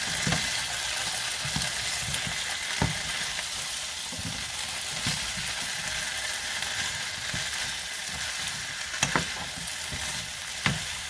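Potatoes and onions fry steadily in oil in a pan, a continuous close sizzle with occasional soft scrapes and knocks as everything is pushed together; no talking.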